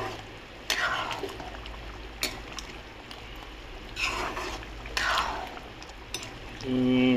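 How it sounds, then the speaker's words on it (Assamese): Duck meat curry bubbles and boils in a pot, a steady dense simmering texture punctuated by several louder spitting bursts, close and continuous. "ধুনীয়াকৈ বক বককৈ উতলি আহিছে"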